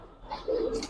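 A brief, soft coo comes from Giribaz and coloured pigeons in a loft, one short call over a quiet background.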